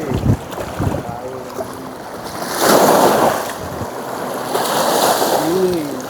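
Strong waves after a monsoon wash against a baywalk shore, making a rolling, surging roar with gusts of wind, loud and close, with people talking nearby.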